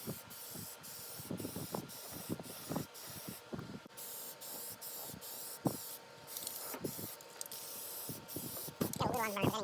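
Short bursts of spray paint hiss onto a rusty year-old grill, repeated in quick hissing puffs with pauses between, fairly close and quiet, while someone talks.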